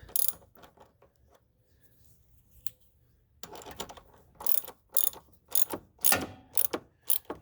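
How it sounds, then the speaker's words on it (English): Wrench tightening the small battery terminal bolt on a third-generation Acura MDX, several close ratcheting click bursts after a quiet pause, rhythmic and fairly loud with no speech. "I'm going to go ahead and use my regular wrench"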